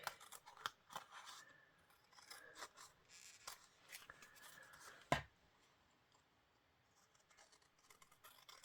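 Scissors snip and scrape along paper edges during a papercraft project, a series of close, quiet crisp cuts and rasps with one sharper snap partway through.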